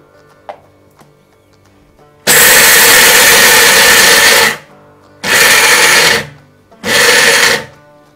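A mixer grinder pulverizes roasted peanuts into powder in three loud, close bursts: a long whirring run, then two shorter pulses, each starting and stopping abruptly with near-quiet pauses between.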